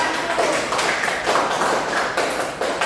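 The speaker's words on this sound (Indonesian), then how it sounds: "kita beri aplaus untuk kelompok 1" A classroom group claps after its presentation, a dense, steady patter of many hands at close range. The applause keeps an even level throughout with no voices over it.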